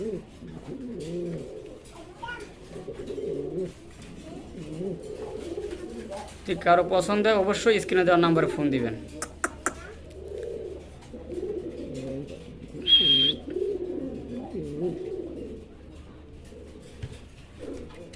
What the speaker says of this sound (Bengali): এখানে কিন্তু খুবই সুন্দর একজোড়া মুখী কবুতর আছে